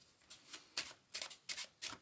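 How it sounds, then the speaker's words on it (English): A packet of playing cards is shuffled by hand, heard as five quick riffling bursts in a steady rhythm, close and fairly quiet, with no talking over it. "I will give the packet a shuffle just to make this all nice and fair"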